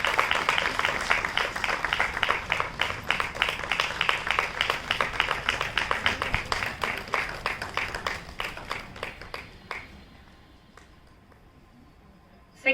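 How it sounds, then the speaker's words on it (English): Teachers and parents at a school Independence Day celebration give a long round of applause. Many hands clap in quick, dense succession for about ten seconds, then the sound thins out and fades to near quiet. "Give them a big round of applause, teachers and parents."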